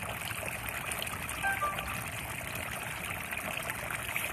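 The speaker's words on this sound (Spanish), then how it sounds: "Me ingresa un sonido del agua." Water trickling steadily in a fountain, a continuous close splashing flow with no gaps.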